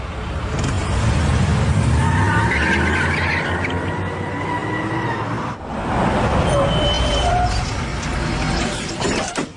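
A car in a Hollywood action film, dubbed into Hindi, drives away near a building being demolished. A loud, steady engine and road roar runs throughout, with squealing tones and a brief dip near the middle, under some speech.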